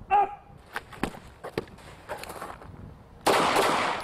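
Blank guns firing in a close-quarter combat scene, a series of sharp, separate pops spaced irregularly, followed by a louder burst of noise at the end.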